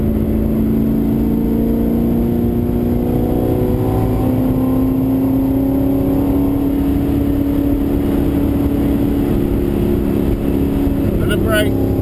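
V8 race car lapping Pukekohe circuit in Auckland, heard from inside the cabin: loud, continuous engine roar with rising pitch as it accelerates through the gears, dense road and wind noise throughout.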